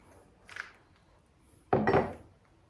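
Nut butter scooped from a jar with a spoon for a smoothie: a soft scrape, then a louder, sharper clink and scraping burst, near and alone with no talk.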